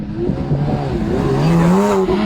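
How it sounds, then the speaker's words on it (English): A Porsche Boxster launches onto an autocross course at Grissom AFB, its engine note climbing steadily as it accelerates away, loud and close with a rising whine. "Tracy Ramsey heading out in the Boxster."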